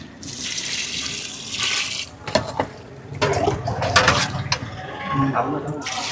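Water runs and splashes steadily into a cooking pot of rice for beef biryani, a continuous rushing pour with some clinks and handling noises partway through.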